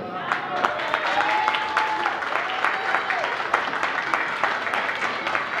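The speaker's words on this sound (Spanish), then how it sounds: "pues un aplauso le vamos a dar" A crowd at a performance at the Mercadito claps in a moderate, steady round, individual claps audible amid a soft wash of applause, with voices and a faint tone underneath.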